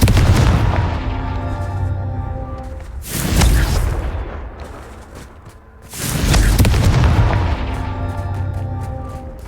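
Two heavy blasting-curse explosions from the Hogwarts Legacy video game, each a deep booming burst a few seconds apart, over a steady background of in-game ambience and rumble.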